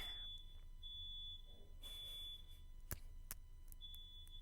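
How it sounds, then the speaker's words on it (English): A shrill, high-pitched smoke alarm beeps in repeated bursts over a low background hum, with a couple of sharp clicks between the tones. "it's just making the fire alarms go off"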